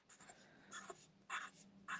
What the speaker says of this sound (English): I'm just making some marks on there so that I kind of know where I need to be putting my strips